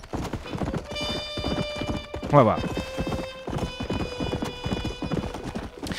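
Horse hooves clip-clop at a steady trotting rhythm in the Western video game Red Dead Redemption, with a brief whinny midway and someone talking over the hoofbeats.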